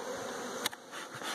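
Steady honey bee buzzing close by at an open hive, a dense continuous drone with a brief sharp knock partway through.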